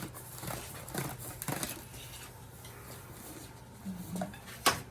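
A small metal hex wrench for a carbide-tipped chisel used in bowl turning drops and clatters, a few light scattered metallic taps and rattles at low level with a sharper click near the end.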